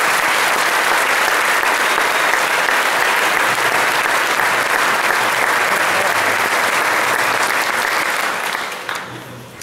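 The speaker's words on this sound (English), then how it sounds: "Let's give them a special round of applause." An audience at a high school spring band concert claps in sustained, dense applause that stays loud and even for several seconds before tapering off at the end.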